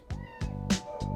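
A friendly male shelter cat meows four times in short, close, fairly loud cries, with no other sounds around them.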